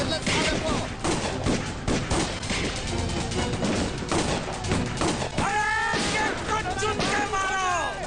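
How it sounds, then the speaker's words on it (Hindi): Gunfire in a Hindi action movie: dense bursts of rapid shots and impacts over shouted dialogue and music, loud and continuous throughout. "गोली चला दे रहा हूँ"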